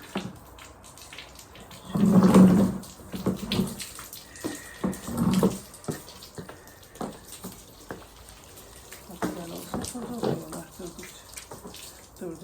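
Tap water runs into a sink in a village kitchen while things are washed under it, with louder splashing bursts around two and five seconds and quieter running water between.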